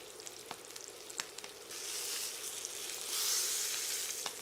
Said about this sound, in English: We want to sear this, and we're going to turn it quarter turns and get a nice sear all the way around.